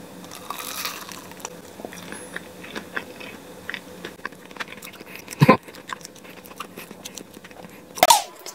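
A person bites into and chews ripe durian fruit up close, with soft wet chewing and mouth sounds and two sharp crunchy bites standing out near the end.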